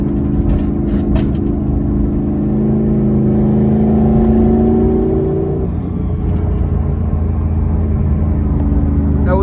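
An S550 Mustang GT fitted with an S475 T6 turbo accelerates hard in third gear, a loud close engine drone climbing steadily in pitch, then easing off into a lower rumble, with a few faint clicks early on.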